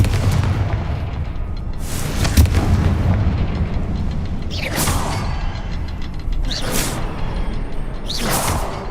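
Fire-spell blasts in the Hogwarts Legacy video game, several whooshing bursts with booming impacts spread across the span over a dense layer of game noise.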